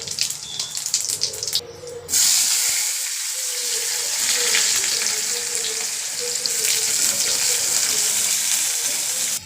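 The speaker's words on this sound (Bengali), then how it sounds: "একটু জিরে ফোড়নও দেবো" Cumin seeds sizzling in hot oil in a small kadai for tempering: a loud, steady hiss bursts in after a brief quiet moment and holds close and constant to the end.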